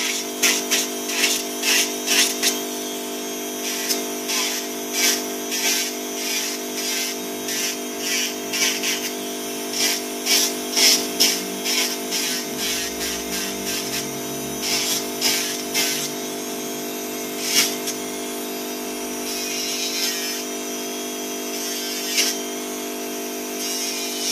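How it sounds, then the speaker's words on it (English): A small electric nail drill whirs steadily, with brief higher-pitched grinding bursts as it buffs an acrylic nail surface. "basically to buff my nail out"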